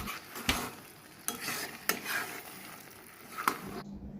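Marinated chicken with capsicum and tomato is stirred in a hot kadai over high flame; four sharp scraping strokes cut through a soft, steady sizzle.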